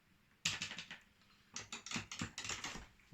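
Keys clacking on an Atari 800 XL keyboard: quick bursts of close, crisp typing strokes, a short run, a pause, then two more rapid flurries.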